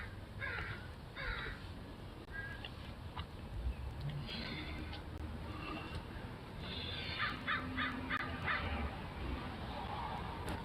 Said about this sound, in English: The crows are over here, though.